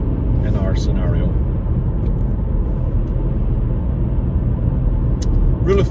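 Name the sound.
car accelerating to national speed on a road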